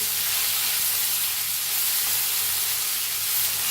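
Green chillies roasting in a hot pan give off a steady, continuous sizzling hiss, even and close throughout, with no voices.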